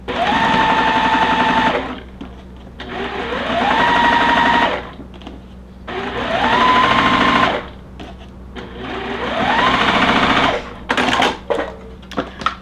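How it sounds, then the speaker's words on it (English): Sewing machine stitching quilt block pieces in four steady runs of about two seconds each, a whirring motor that climbs in pitch as it speeds up, with short pauses between runs and a few clicks at the end. "And then we're gonna sew this way."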